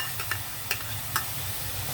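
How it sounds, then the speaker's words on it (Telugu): Tomatoes go into frying onions in a pan, giving a steady sizzle with a few sharp stirring scrapes, close and alone. "నేను టమాటా యాడ్ చేస్తున్నాను."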